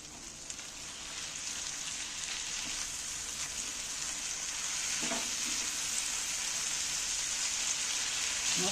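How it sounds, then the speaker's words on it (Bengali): Ginger garlic paste sizzles in oil in a pan for an egg dish, a steady close hiss that grows slightly louder, with one brief stirring scrape midway. "এবারে তেলের মধ্যে আদা রসুন বাটাটা ভালো করে একটু নাড়াচাড়া করে নেব।"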